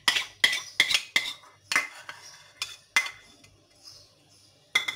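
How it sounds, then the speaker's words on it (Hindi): A spoon clinks and scrapes against a bowl as chicken is mixed into a yogurt and cream marinade for Afghani chicken karahi, giving a series of sharp, close clatters with quieter stirring between them. "अब इसको सारे को अच्छी तरह मिक्स कर लेना है हमने चिकन के साथ"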